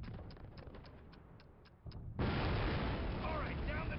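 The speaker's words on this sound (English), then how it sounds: "This cannon's about to go boom!" Cannon fire in Call of Duty Classic, a heavy low boom breaking in partway through after a lead-in of rattling game noise, with loud rumbling wash sustained afterward.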